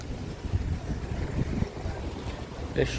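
Strong seaside wind at Cascais, Portugal, a steady low rumble of gusts buffeting the microphone, fairly loud and continuous with no voices.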